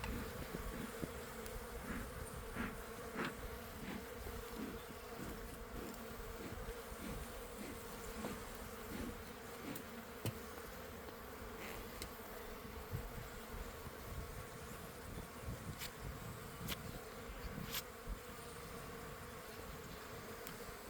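A dense, steady drone of many bees buzzing around an outdoor beehive, close and continuous for the whole stretch, with occasional individual bees flying past nearer and no talking.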